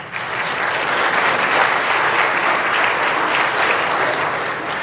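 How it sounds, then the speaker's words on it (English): Applause from an audience at a family awards event, loud and sustained, many hands clapping evenly for about five seconds with no speech over it. "I always wonder why they tell you to hold applause to the end"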